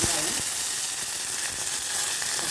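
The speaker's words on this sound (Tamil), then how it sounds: "வெந்தயம் கொஞ்சமாக கடுகு சீரகம் எப்பவும் போல் நம்ம காரக்குழம்பு தாளிக்கிறாப்பில் தான்" Steady crackling sizzle of fenugreek, mustard seeds and cumin frying in hot oil for a Tamil kara kuzhambu, close and continuous, with a brief stir near the start.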